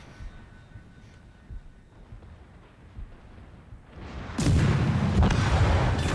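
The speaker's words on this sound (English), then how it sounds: "Whoa, major torpedo hits." Torpedo hits exploding against a ship in the naval battle game World of Warships, a sudden loud, broad burst of rumbling blasts erupting after a quiet stretch and sustained to the end.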